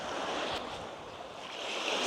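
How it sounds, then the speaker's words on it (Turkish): Steady, loud wind rushing across the microphone at a cove in Bodrum, Turkey, with surf washing underneath, a continuous roar without pauses. "Bayağı bir rüzgar var"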